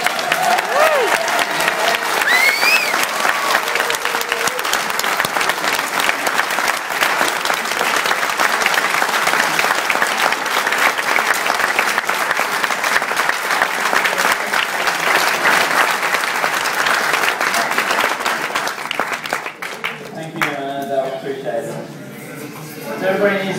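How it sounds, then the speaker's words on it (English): Staff at the Canberra Deep Space Communications Complex applaud the Curiosity rover landing, sustained dense clapping with a few whoops lasting about twenty seconds before tapering off into talk. "I would like you guys to give a round of applause for our guys here at Adelaide Station"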